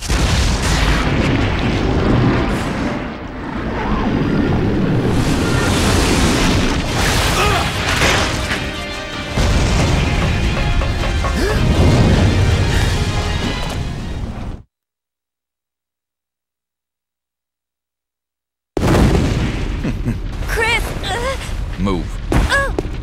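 Loud, dense booms and crashes from a video game fight against a giant bug boss being blown apart, continuous heavy blasts for about fourteen seconds, then a brief silence before the chaotic explosive din returns.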